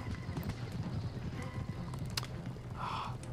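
Cavalry horses gallop across a battlefield in the Empire: Total War video game, a rapid, dense clatter of hooves at moderate volume with a few sharper knocks and a brief whinny-like cry near the end.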